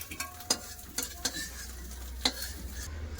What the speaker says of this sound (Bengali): এইভাবেই সব ডিমগুলো ভালো করে ভেজে নেব